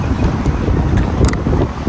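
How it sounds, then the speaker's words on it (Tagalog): Strong, cold wind blasts across the microphone at a harbourfront near the CN Tower in Toronto, a loud continuous low rumble with no speech. "Mahangin. Lamig."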